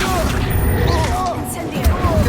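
A spell-casting blast from Hogwarts Legacy, the Incendio fire spell, erupts in short booming bursts during combat, with a voice speaking amid the magical effects.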